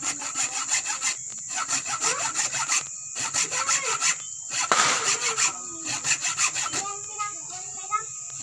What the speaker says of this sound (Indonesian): jadi kita pakai gergaji aja